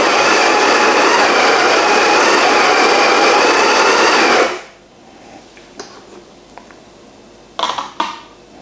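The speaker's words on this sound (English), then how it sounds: "We're grinding for a double espresso" Coffee grinder grinding beans for a double espresso, a loud steady whirring roar for about four and a half seconds that cuts off abruptly, followed by quieter clicks and a couple of knocks.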